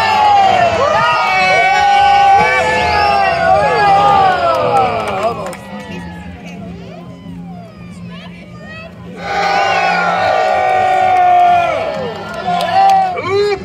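A festival crowd at a Renaissance Faire jousting match cheers and yells for a knight, loud and sustained, dipping into quieter murmuring midway before a fresh roar of cheering swells back up.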